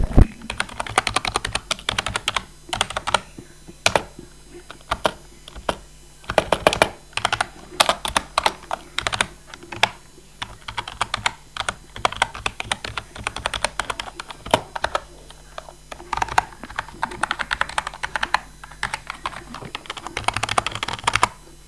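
Steady clatter of keys on a Gaming Keyboard KG315, fast irregular typing with occasional louder strokes, close up and continuous, with no voices.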